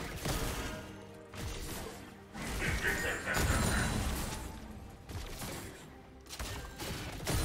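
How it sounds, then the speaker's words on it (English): Turret destruction in League of Legends, Viktor versus Yasuo mid lane: a series of smashing crashes and thuds with whooshing bursts, loud and layered over busy game noise, with a brief voice passing through. "Red team's turret has been destroyed."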